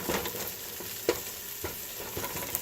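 Garlic frying in a pan while making spaghetti, a soft steady sizzle with a few brief scrapes and taps of stirring, faint and close, with no talk.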